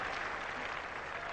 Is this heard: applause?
yes